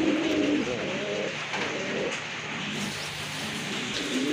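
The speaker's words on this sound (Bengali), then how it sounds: "আরেক জোড়া কবুতর, বিউটি হোমা কবুতর" Beauty Homer pigeons coo in soft, repeated low calls, steady and close against a constant background hum, with no one speaking.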